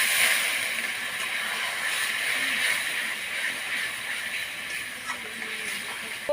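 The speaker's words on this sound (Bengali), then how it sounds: "মশলাটা মেশানোর জন্য আমি অল্প জল দিয়ে দিচ্ছি।" A little water is poured into spice paste frying with pepper and garam masala for a country chicken curry, giving a loud, steady sizzling hiss that slowly eases off.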